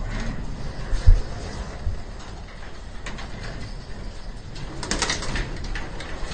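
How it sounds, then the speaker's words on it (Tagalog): Pigeons coo softly inside a pigeon fancier's loft in Manila, low murmuring calls amid faint rustling and light mechanical knocks. "So ayan yung mga ibon niya, mga nabili na din sa mga kilalang panshir."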